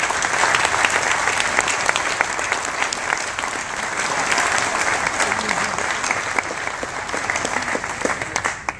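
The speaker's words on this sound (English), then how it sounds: "I'd like to give you a round of applause" Audience applause at a company event unveiling algae grower harvester bioreactors, a sustained crowd clapping that stays full and even for nearly nine seconds and thins slightly toward the end.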